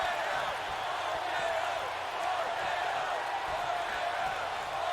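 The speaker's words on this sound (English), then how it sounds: "Crowd kind of chanting for an RKO here" A wrestling crowd chants for an RKO, a dense continuous roar of voices filling the arena at steady volume with no clear breaks.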